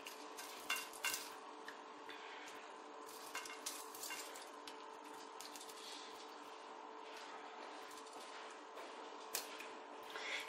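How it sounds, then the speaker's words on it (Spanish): Barbecue sauce being brushed over oven-baked pork ribs, soft close wet dabbing and scraping strokes with occasional light clinks of utensils against a tray, steady and fairly quiet throughout. "ahora comenzamos a pincelar con la salsa barbacoa que hemos preparado"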